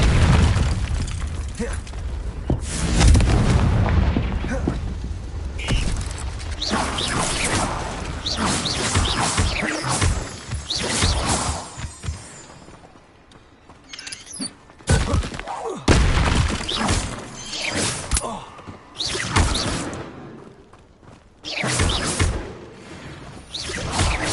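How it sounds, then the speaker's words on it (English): Confringo blasting spells firing in a video game, producing a long run of loud booming explosions, crashes and whooshes in rapid succession, with brief quieter gaps between bursts. "Confringo! Confringo!"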